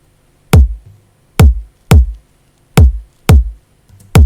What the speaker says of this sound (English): The way I like to do, I like to layer my kicks like bottom and top separately.